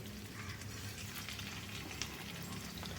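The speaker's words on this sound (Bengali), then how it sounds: "এগুলো কড়াইয়ে দিয়ে দিচ্ছি এবার সেই একইভাবে এগুলো ভেজে নিচ্ছি" Steady, crackling sizzle of fritters frying in a wok, a dense hiss of bubbling oil running evenly throughout with no voices.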